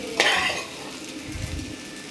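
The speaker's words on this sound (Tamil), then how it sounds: "இப்போ நம்ம நல்லா கிளறி விட்டுக்கலாம்." A spoon stirs egg rice frying in a pan. It opens with a sharp scrape and clink of metal on the pan, then a soft continuous sizzle and shuffling of rice runs underneath.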